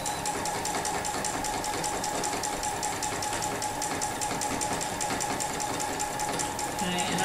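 A domestic sewing machine runs steadily through a free motion quilting double grid, a continuous fast mechanical hum with a rapid needle rhythm, close and even throughout.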